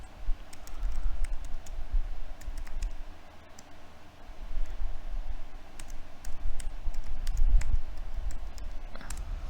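A username and password being typed on a computer keyboard: quick, irregular bursts of close key clicks over a low background hum, with no talking.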